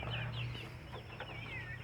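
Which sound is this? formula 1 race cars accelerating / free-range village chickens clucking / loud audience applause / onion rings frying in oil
free-range village chickens clucking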